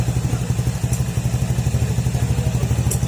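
A motorcycle engine idles too high and hunts, with an ECU and throttle-body fault; a close, steady, rhythmic pulsing runs throughout with no talk.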